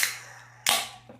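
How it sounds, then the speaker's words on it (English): A drink being opened up close: a sharp hiss of released pressure that fades, followed by a second crisp snap and hiss, then a faint click. "So, drink is here. I'm going to open it."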